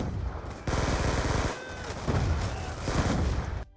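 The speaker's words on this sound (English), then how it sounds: "A fast-firing SMG" Rapid bursts of submachine-gun fire from a Call of Duty game, loud, close automatic shots in quick successive strings with brief pauses between bursts, and no talking.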